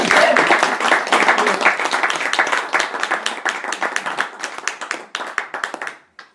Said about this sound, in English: we should give a hand to Lee and his crowd